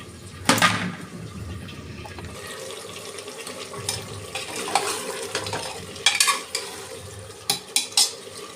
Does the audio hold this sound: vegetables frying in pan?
yes